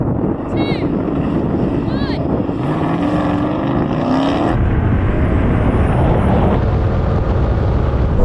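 Porsche 718 Cayman and Audi TTS launch side by side in a drag race, engines roaring loud and steady under heavy wind buffeting, with people talking over the noise throughout.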